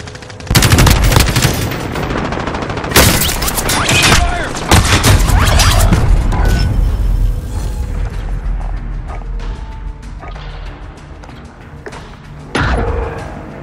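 Heavy explosions and gunfire in Call of Duty Warzone Plunder, with loud booming blasts and rapid shots early on, then a fading rumble and a final sharp blast near the end.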